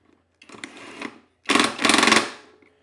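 A nut tightened back on during repair of a Snapper mower's Briggs and Stratton engine: a short rattling burst of ratcheting, a brief pause, then a louder, longer buzzing run of clicks close by.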